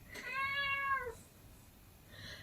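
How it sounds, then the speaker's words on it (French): A single clear meow from a cat nearby, followed by quiet background noise and a faint trailing sound. "le chat il miaule encore."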